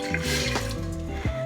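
About a quarter cup of water is poured into a stock pot warming on medium heat, a short close splash and trickle of liquid over a low kitchen hum.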